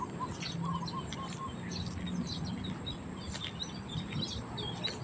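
A bird calls from high in a tall tree near an esplanade, giving repeated faint, high chirps over a steady background of insects and low ambient hum.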